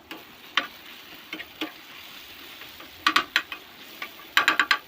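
Onion masala for tawa prawns is stirred in a pan over low heat, with scattered scraping and clinking strokes of a spoon against the metal and faint sizzling underneath, clustering into quick runs near the end.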